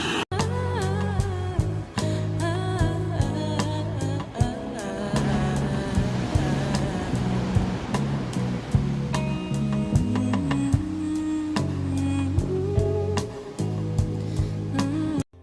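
A waterfall on the Madhmaheshwar trek in the Himalayas roars steadily with broadband rushing water, loud and close, running continuously with no talk.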